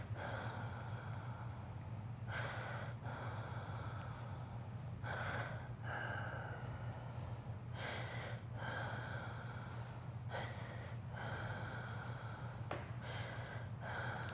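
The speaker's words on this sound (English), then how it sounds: "take some deep breaths in and out for me" Slow, repeated deep breaths from a patient during a medical assessment, each inhale and exhale audible and rhythmic, close up over a low steady hum.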